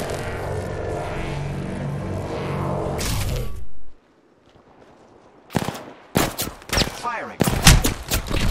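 Bursts of automatic gunfire in the Apex Legends video game, a dense sustained stretch followed by a silent gap and then several loud, sharp volleys, close and punchy, with game sounds between them.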